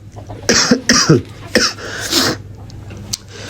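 Several harsh, raspy coughs burst out close up in quick succession, followed by quieter breathing.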